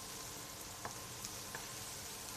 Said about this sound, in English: The rice is starting to boil.